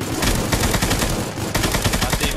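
Rapid bursts of gunfire in the game Knives Out crackle in quick succession, loud and close, with a brief lull midway before the shooting resumes.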